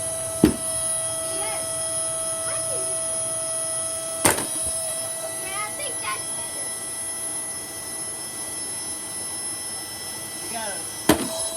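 A Shark Rotator vacuum cleaner motor runs under added weights with a steady, strained tonal hum. Three sharp knocks break in at intervals, along with small clattering sounds.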